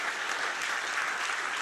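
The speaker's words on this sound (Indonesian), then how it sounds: "beri tepuk tangan dulu buat Tuhan kita" A church congregation at a Sunday worship service in Batam claps for God, a continuous, even patter of many hands at moderate loudness, unbroken and free of speech.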